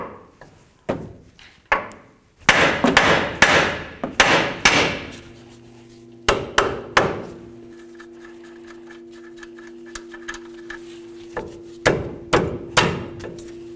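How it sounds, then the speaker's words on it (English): A hammer strikes a Toyota Tundra steering knuckle to free the tie rod, sharp metallic blows in uneven bursts of several hits with pauses between, close and ringing, with a faint steady tone lingering in the middle stretch. "Carefully bonk on the knuckle, but be careful not to damage the tie rod."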